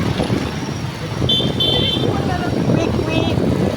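Road traffic in Quezon City rumbles steadily close by, with brief car horn toots over the engine noise while people talk over it.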